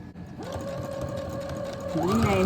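Sewing machine stitching a quarter-inch seam across the joined ends of a fabric headband, a steady continuous motor whir with rhythmic needle chatter that speeds up and rises near the end.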